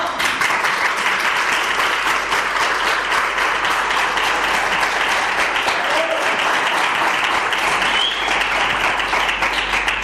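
Audience applause at a ceremony celebrating the languages of Extremadura, a sustained, even roar of many hands clapping that fills the room without pause, with faint voices mixed in.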